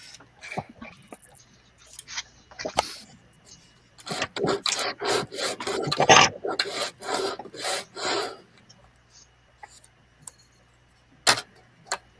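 Sandpaper rubs against a scratch-built model piece in a series of rasping strokes, some in quick bursts, with quiet gaps between them and a few faint taps.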